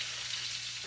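Vegetables stir-fry in oil in a stainless steel wok for a tofu dish, a brief, even, close sizzling hiss with no other sounds.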